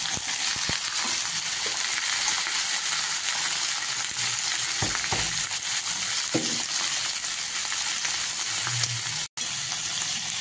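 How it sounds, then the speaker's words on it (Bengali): Vegetables for a soybean sabji fry in a pan with a steady, loud sizzle, broken by a few soft clinks and scrapes as they are stirred. "সবজিগুলো কষা হোক ভালো করে।"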